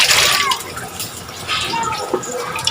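Tap water runs and splashes while a bowl is rinsed in a home kitchen, a continuous hissing stream with uneven sloshing as the bowl shifts under the flow.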